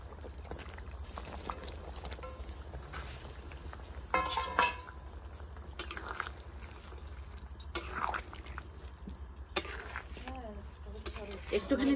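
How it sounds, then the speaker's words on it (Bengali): Fried fish slid into a simmering curry pot, a steady low bubbling sizzle with occasional sharper splashes and clinks of utensils throughout, heard close up under faint background talk. "ভেজে রাখা মাছ এবার দিয়ে দেবো তরকারিতে।"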